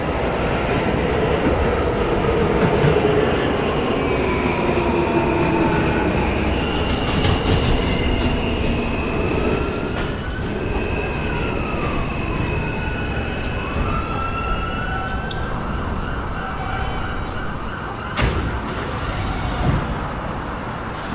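A Roblox game simulation of an R160A G subway train running on the IND Crosstown Line, loud continuous rumble with rising and falling motor whine and faint wheel squeal throughout, with no voices.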